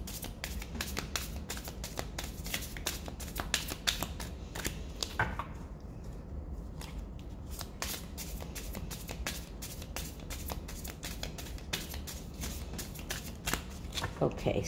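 Tarot card deck being shuffled: quick, repeated riffling clicks and snaps in bursts, close and crisp, continuing steadily with a brief pause midway.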